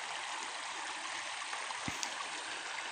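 The Jolapa river in the Jalisco sierra flows steadily in a broad, constant rushing wash of water, close and loud, with no voices.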